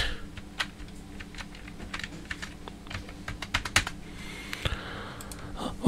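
A password is typed on a computer keyboard as quiet, irregular key clicks in short bursts, close up, with no voices.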